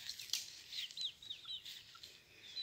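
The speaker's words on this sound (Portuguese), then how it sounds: "a franguinha aqui do pescocinho pelado, ó, tá com três pintinhos" A naked neck hen with three chicks in a rural yard, heard as soft, faint clucks mixed with high thin peeping from the chicks, scattered irregularly and fairly distant.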